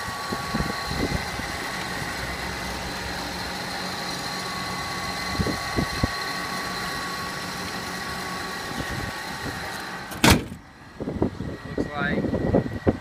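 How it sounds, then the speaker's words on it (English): A 1999 Cadillac DeVille engine idles with a steady low hum, joined near the end by a sharp clunk and some louder handling noise close by. "here we have a 1999 Cadillac Deville. Let you listen to the engine."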